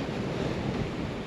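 Wind gusts and choppy sea rush past a boat under engine heading upwind near Guadeloupe toward Terre-de-Haut, a dense, constant roar of wind and water with no talk.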